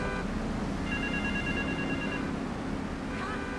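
Telephone ringing inside Grand Theft Auto III, a repeating electronic ring tone of short, fairly faint bursts over steady game background noise.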